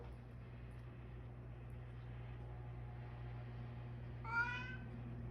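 One short cat meow rises faintly near the end, over a low steady hum and quiet background noise.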